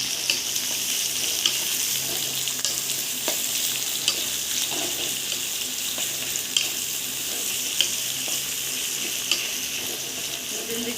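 Chopped onions frying and being stirred in a pan for egg curry, a continuous sizzle with scattered scraping clicks of the spoon running through it, close and steady, with no talk.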